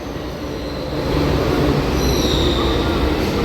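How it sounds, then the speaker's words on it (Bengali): A Kolkata metro train pulls into an underground station with a loud, continuous rumble that swells as it arrives, while steady metallic wheel squeal rides on top. "চলে এসছে আমাদের মেট্রো"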